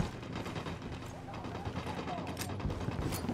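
Rapid gunfire in the game Ghost Recon Wildlands, a dense, continuous crackle of shots over a low rumble, fairly faint with a voice mixed in.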